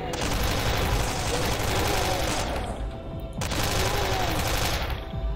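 Chaingunner enemies fire in Doom II, map 29 of the Sign of Torment mod: dense, continuous rapid gunfire in two long loud bursts with a brief break between them.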